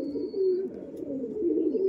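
A green Madras pigeon gives a low rolling coo, close and fairly loud, repeated in two or three swelling phrases with a faint high tone above.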